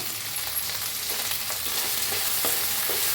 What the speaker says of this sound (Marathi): पुन्हा मिक्स करूया बघा मस्त असं भाजलं आहे